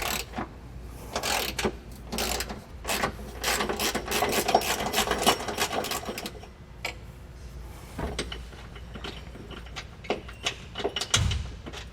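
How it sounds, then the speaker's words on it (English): A ratchet with a 13mm socket loosening and removing a factory bolt on a 2019 Ford: quick, rapid ratcheting clicks in repeated bursts, close and fairly loud, with brief pauses and a final clunk. "Take a 13mm socket to loosen and remove this bolt."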